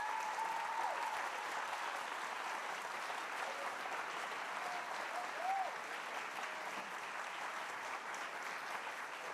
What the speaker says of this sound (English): how about a round of applause for the great job they're going to be doing in Rochester